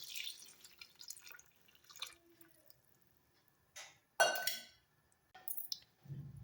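Second coconut milk is poured into a pot of sambar with vegetables: quiet scattered drips and a brief splashy burst, with small clicks and gaps of near silence between.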